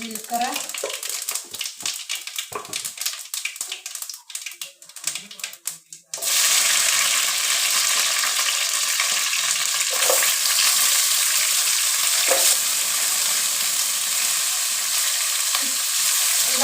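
Mustard seeds hit hot oil while sambar is being made: someone talks briefly, then a sudden loud, dense sizzle starts and crackles on steadily, with faint popping throughout.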